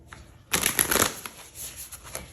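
A deck of playing cards being shuffled, a quiet start breaking into a burst of riffling flutter, then a few softer taps and rustles as the cards settle, close and alone.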